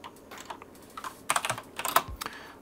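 Keystrokes on a computer keyboard, typed in a quick irregular run of close, crisp clicks that grow denser and louder toward the middle, with no voices.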